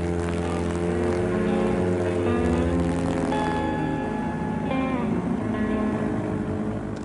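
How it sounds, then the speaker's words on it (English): An airboat roars across Florida marshland, its propeller and engine droning loud and steady with a shifting pitch throughout. "The marshes could only be crossed by airboat."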